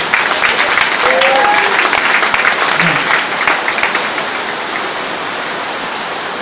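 A church congregation at a praise and preaching service claps loudly and continuously in acclamation. The dense applause fills the space, then fades gradually toward the end.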